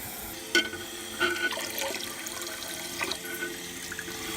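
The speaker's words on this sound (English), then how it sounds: "we can turn on the water and see if water sprays everywhere" Water rushes into a newly installed toilet tank once the supply is turned on, a close, continuous splashing flow with a few sharper gurgles and knocks scattered through it.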